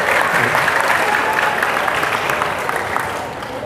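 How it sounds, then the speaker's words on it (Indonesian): An audience claps for the DKP department at a school talk on entrepreneurial mindset, giving a dense, loud, continuous wash of applause that stays steady and then eases slightly at the end. "Jurusan DKP, woi tepuk tangan buat DKP"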